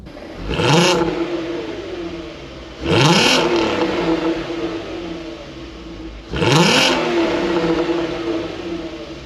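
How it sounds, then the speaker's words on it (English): A Volkswagen Golf R32's standard exhaust revs three times in a row, each rise a loud, throaty blip that settles back to a rumbling idle between bursts. "It can sound really good, and this is a standard exhaust system"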